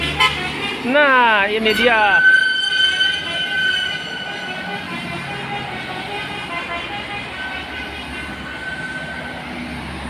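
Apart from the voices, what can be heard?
tour bus telolet horn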